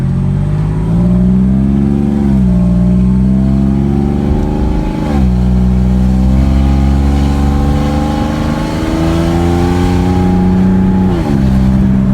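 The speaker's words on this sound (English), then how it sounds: "we have a G37 bone stock, but a disgusting leak in his mid pipe" A bone-stock Infiniti G37 engine drones and revs close by, its exhaust raspy and buzzing with a leaky, rattling edge from a mid-pipe leak as the revs rise and fall.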